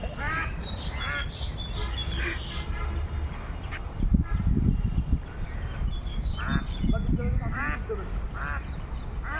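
A duck quacking repeatedly in a series of nasal calls, with a louder rough stretch in the middle, over constant background noise and some talk.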